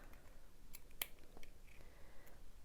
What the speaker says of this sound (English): We're going to make a little snip